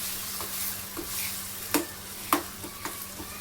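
Chopped ridge gourd frying in oil with turmeric and salt, a soft steady sizzle with a few sharp clicks of a spoon stirring against the pan, close by and moderately loud.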